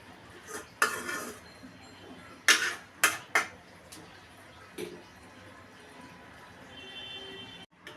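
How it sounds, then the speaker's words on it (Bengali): Fried tilapia fish pieces being added to a pan of cooked-down spiced masala, giving several sharp clattering utensil-and-pan knocks spread over a low kitchen background. "দিয়ে দিচ্ছি ভেজে রাখা মাছ। সব মাছ দিয়ে দিলাম।"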